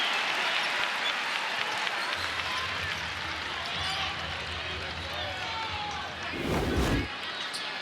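A crowd at a 2025 NCAA women's second-round basketball game between TCU and Louisville applauds a hustle play, a steady roar of clapping and cheering in a large arena beneath a commentator's talk.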